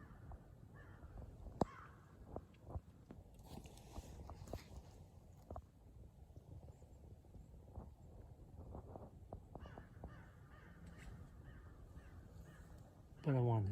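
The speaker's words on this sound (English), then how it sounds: "The old crows have been just yakking this morning" Crows cawing repeatedly at a distance, faint harsh calls scattered over a quiet outdoor background.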